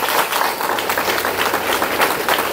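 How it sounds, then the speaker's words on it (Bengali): An audience at a Mi Lifestyle rank celebration program breaks into loud, sustained applause, dense overlapping clapping filling the room with a little crowd noise. "একটা জোরে হাততালি ওনার জন্য।"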